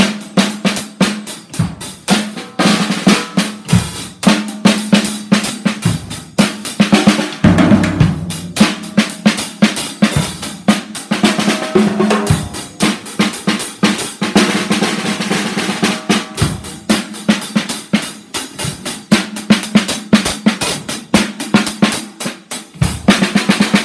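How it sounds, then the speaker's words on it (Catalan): A drum kit with metal cymbals and membrane drums plays a busy, loud groove of rapid steady hits and crashes that runs unbroken throughout, with no voices. "Aquesta és la bateria."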